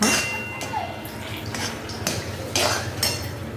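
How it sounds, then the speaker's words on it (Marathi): A spoon stirs thickening jaggery syrup in a pan for tilgul, with repeated scrapes and clinks of metal against the pan at an uneven rhythm, close and moderately loud. "अजूनही तयार झालं नाही अजून दोन मिनिट आपण हलवून घेणार आहोत"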